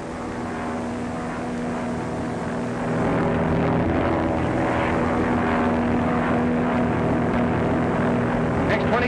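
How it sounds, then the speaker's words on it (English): A propeller patrol plane drones overhead in a 1930s film scene, a steady loud engine roar that swells slightly partway through, with no voices over it. "Patrol plane scouting."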